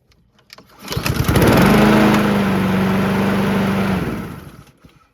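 A Husqvarna HU700H lawn mower, left sitting for over three years, starts up quickly with a sputter, then its small engine settles into a steady, loud, even run before cutting off at the end.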